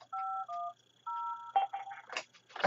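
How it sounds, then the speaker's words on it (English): Touch-tone keys dialed on an Avaya IP Office phone to reach a conference bridge, a few clear paired-tone beeps in an even rhythm followed by quicker, fainter tones, close and alone with no talk. "I'm going to dial 55510. That's our internal way of getting into a conference bridge."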